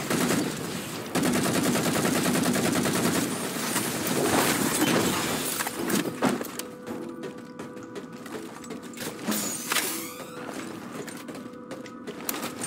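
Halo 4 sniper rifle and other weapons fire in a dense, loud burst of rapid shots and shattering impacts, which thins out into scattered single cracks and clatter, with no talk.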